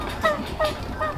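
Turkeys following a person on a morning walk to milk the cow give a few brief, fairly faint calls at a steady pace over low outdoor rumble, with no one talking.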